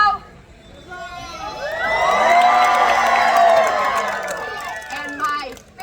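A Renaissance festival audience at a fire-and-blades stage show cheers and whoops loudly, the crowd noise swelling to a sustained roar of shouting voices, including children, before fading.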